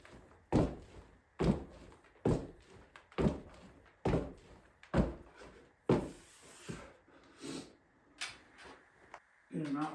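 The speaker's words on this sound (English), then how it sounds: "So these Russian lunge jumps, so we drop down, boom, boom, lateral." Rhythmic heavy thuds of feet landing from Russian lunge jumps repeat roughly every second in a training session, each a dull impact followed by a short bounce.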